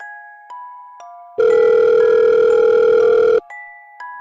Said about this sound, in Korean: 관리자에게 전화를 걸었다.